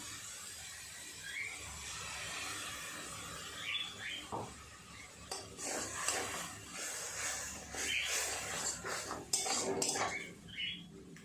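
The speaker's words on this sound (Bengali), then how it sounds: "খুব ভালো করে সমস্ত কিছু একটু নেড়ে চেড়ে ভাজা ভাজা করে নেব।" Metal spoon scraping and clanking against a pan as taro leaves with mustard-poppy paste, green chilli and fried prawns are stirred, a steady run of close, irregular scrapes and knocks with no talk.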